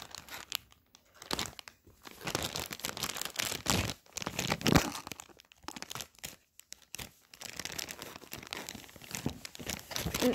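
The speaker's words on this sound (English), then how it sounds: "unwrap it." Packaging around a McDonald's toy is unwrapped, with close, loud crinkling and tearing in irregular bursts separated by short quiet gaps.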